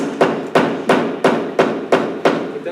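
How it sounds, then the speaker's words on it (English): A hammer strikes a nail in a steady rhythm, eight sharp, loud, close blows spaced about a third of a second apart, with no talking. "But then like I'm hammering a nail right now for Sanya."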